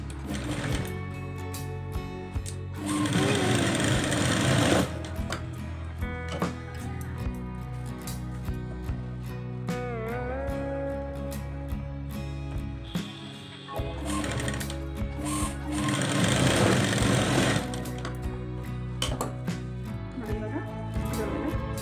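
An electric sewing machine stitches a plain blouse in long whirring runs of rapid stitching, separated by brief pauses, close and fairly loud. A voice speaks at times over the machine.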